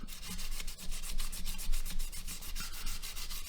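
Sanding loose fibers off the handle scales of a Civivi Sokoke knife produces quick, rhythmic scratchy back-and-forth strokes, close and fairly loud with no talking.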